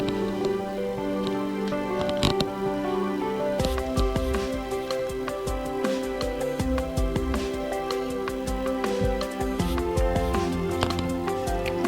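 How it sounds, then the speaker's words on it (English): A Magix Music Maker project plays back a dense mix of a steady drum beat with strings and keys, continuous and full at an even loudness for the whole stretch, with no talking. "we've got a drum beat. So we've got some strings, we've got some keys, and we've got some drums."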